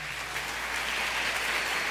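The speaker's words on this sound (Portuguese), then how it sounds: "Podemos aplaudir o Senhor Jesus pela vida deles, querido?" A church congregation applauds at a service, steady dense clapping filling the whole stretch at even loudness with no voices over it.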